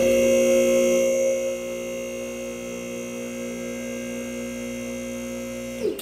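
An electric car lift motor runs with a steady electrical hum, louder at first then settling to an even drone before a short clunk at the end as it stops.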